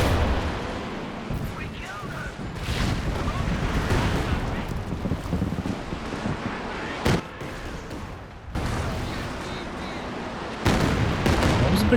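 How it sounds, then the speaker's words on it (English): Tulip rocket strikes and explosions rumble through a Company of Heroes 2 2v2 match, with loud booming blasts and sharp bursts over dense battle noise while a caster talks. "Oh, and the Tulip rockets both connecting."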